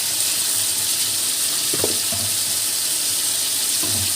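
Water running steadily from a kitchen tap while fresh coriander is washed: a constant hissing stream with a few brief splashes and clinks, no voices.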